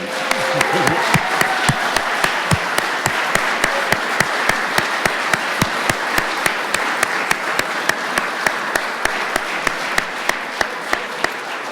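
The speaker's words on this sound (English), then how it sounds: "let's start with a round of applause for that" Loud, sustained applause from a university event audience, dense clapping filling the whole stretch without letting up.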